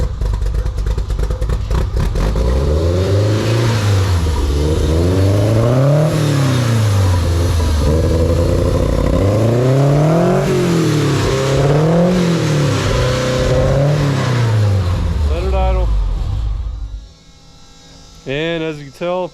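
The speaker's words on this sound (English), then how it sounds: "at least it revs up now" A Volkswagen ABA 2.0-litre four-cylinder engine running on Megasquirt fuel injection revs up and falls back again and again in steady swells, loud and close. It will not settle into an idle and cuts out near the end.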